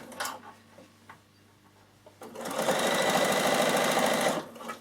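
A sewing machine stitching around the edge of a fabric microwave bowl, a few short taps and clicks before the motor starts up into a loud, steady, rapid whirring run that stops near the end.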